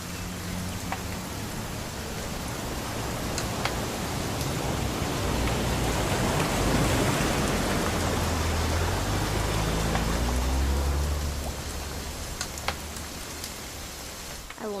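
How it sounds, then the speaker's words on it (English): Steady video game rain in What Remains of Edith Finch pours down as a broad, hissing wash, with occasional brief clicks and tones above it. "It's gonna rain the whole weekend, isn't it?"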